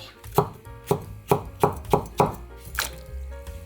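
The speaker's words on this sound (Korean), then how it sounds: "썰어주세요." A knife slicing cheongyang chili peppers on a cutting board, six crisp evenly spaced chops about half a second apart, close and distinct with no talk.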